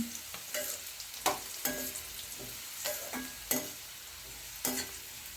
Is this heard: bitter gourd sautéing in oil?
yes